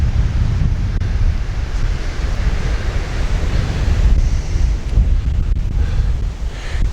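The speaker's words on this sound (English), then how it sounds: "You can see the lovely beach. It's a little overcast today." Surf washing onto a beach just after 7 a.m. under an overcast sky, a steady low roar of breaking waves mixed with wind buffeting the microphone, continuous and fairly loud with no voices.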